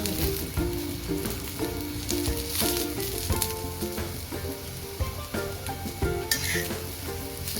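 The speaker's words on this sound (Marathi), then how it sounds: "खोबरं पण छान असं तांबूस रंगावर भाजून घ्यायचं।" Grated coconut roasting in oil in a pan, a steady sizzle and crackle with frequent stirring scrapes and light clinks of a utensil throughout, close and continuous with no voices.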